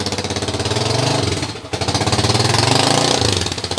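A Honda TMX 155 motorcycle engine runs steadily close by, a loud, rough, pulsing mechanical drone with a brief dip partway through before it picks back up.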